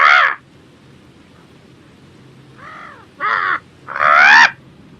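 A crow caws in the Brave video game: one loud caw, a fainter one, then two strong harsh caws close together, with no talking over them.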